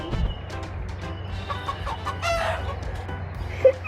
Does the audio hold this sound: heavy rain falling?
no